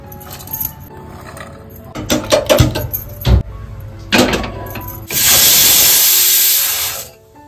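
A pressure cooker steaming vegetables for pav bhaji sets off a few metallic clinks and knocks, then a loud, steady hiss of escaping steam lasting about two seconds before it fades.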